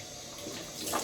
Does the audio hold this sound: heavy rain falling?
no